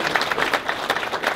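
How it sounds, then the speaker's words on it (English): Brief applause from a meeting audience at an Association of Inspectors General gathering, a dense round of clapping heard fairly close and moderately loud without talk. "if you guys would give him a round of applause as well"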